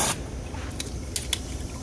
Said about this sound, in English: Just to be safe, I'm gonna give it a spray from underneath to see if there's anything stuck.